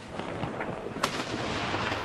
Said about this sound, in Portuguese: 21 tiros de canhão.